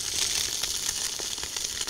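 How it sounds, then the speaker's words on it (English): A fluffy egg-white whitebait fritter frying in butter gives off a steady, close, bright sizzle with small crackles and pops, heard alone with no talking. "that's just sizzling away in the butter"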